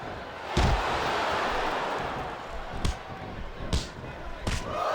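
Several heavy thudding wrestling slam impacts from the Smackdown vs Raw 2007 video game, including an FU slam, land at irregular intervals over a steady roar of crowd noise, with the first slam the loudest.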